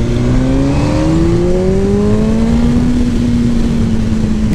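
A Kawasaki Ninja ZX-10R sportbike engine revs loud and close, its pitch climbing steadily and then holding high on the open road.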